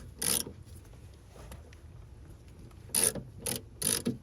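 Ratchet wrench loosening a bolt on the rear quarter window regulator of a 2006-2010 BMW 6 Series E64 M6 645, heard as one short burst of clicks, a quieter pause, then three more close ratcheting bursts.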